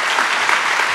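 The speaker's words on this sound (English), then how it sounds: "Everybody, let's give a round of applause and thanks to everybody." Audience applause closing a Cap Times Idea Fest panel, a short dense burst of many hands clapping at even loudness, with no voices standing out.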